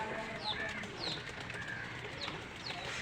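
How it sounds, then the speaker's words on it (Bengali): Pigeons feeding, with several quick bursts of wing flapping and faint chirps over a low bustling background, fairly soft and somewhat distant. "এই কবুতর খাচ্ছে।"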